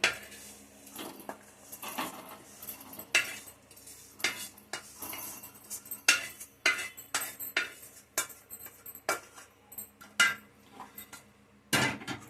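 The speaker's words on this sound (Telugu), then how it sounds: "ఇప్పుడు ఇవన్నీ కూడా మిక్సీ గిన్నెలో తీసేసుకుందాం" Repeated clinks and taps of a spoon against metal containers as ingredients, including ginger, are scraped into a mixer jar, irregular and close.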